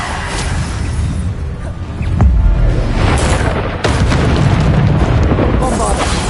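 Bombarda spell blasts in Hogwarts Legacy on PS5, a string of loud booming explosions with rumbling debris crowding the whole stretch, sharp hits near two and four seconds amid continuous combat noise.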